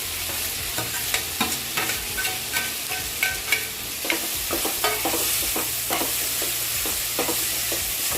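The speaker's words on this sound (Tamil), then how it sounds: "இதை சேர்த்து நல்லா எல்லாமே ஒன்றா சேர்கிற மாதிரி கிளறி கொடுக்கணும்" Bitter gourd is stirred together with tomatoes in a hot pan, giving a steady sizzle broken by repeated scraping clicks of the spoon against the pan, close and fairly loud, with no talking.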